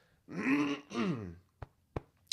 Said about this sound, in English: let me clear my throat, drink a glass of water here